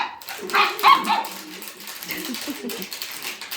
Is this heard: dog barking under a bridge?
yes